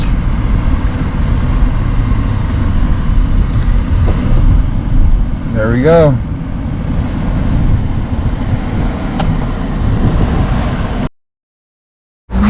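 A Mercedes-Benz S-550 rolls through a tight turn on a dealership lot, a steady low drone of engine and tyre noise running throughout, with a brief voice partway in and a short cut to silence near the end.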